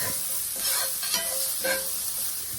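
Onions frying in a skillet over the heat, a steady close sizzle with a few louder bursts of stirring scrapes, no talking.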